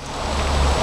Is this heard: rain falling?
yes